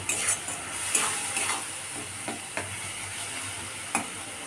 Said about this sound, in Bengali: এবার আদা রসুনটা ভালো করে কষিয়ে নেব।